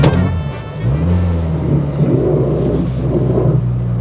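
A brand-new Dacia 1310 on a test drive, with a loud, steady engine drone and low rumble from inside the car and a slight rise in revs, no talk.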